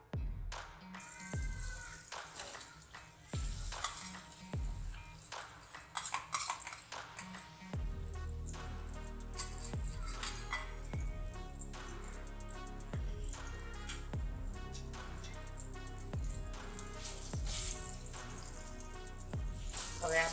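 Soaked fenugreek seeds go into hot ghee for methi pak. A low, quiet sizzle spreads into a steady hiss over a low flame, broken by repeated scraping and clinking of a spoon against the pan.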